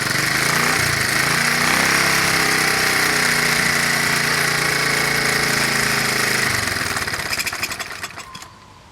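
A small engine on a 1984 Honda Z50R motorcycle idles steadily with a fast, buzzy mechanical rattle, close and loud, then winds down and cuts out near the end.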